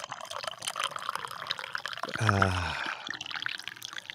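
Hot coffee poured into a cup during a morning show, a steady liquid stream rising in pitch for under a second as the cup fills, heard amid background chatter and room noise.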